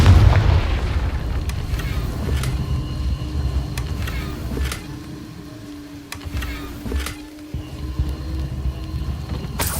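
Confringo blasting curse explosions in Hogwarts Legacy, a heavy boom at the start followed by several sharp repeated blasts and crackling impacts over a low rumbling background.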